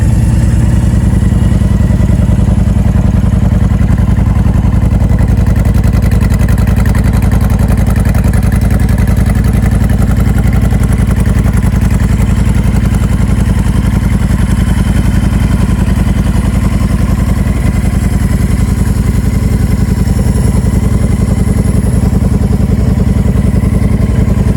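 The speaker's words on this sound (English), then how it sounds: "2014 Honda Fury." A 2014 Honda Fury motorcycle engine runs steadily at a loud, close, constant idle-like rumble with mechanical clatter, alone and unchanging throughout.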